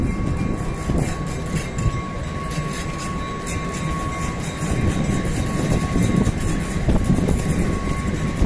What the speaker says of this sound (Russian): Вот мы видим, едет электричка.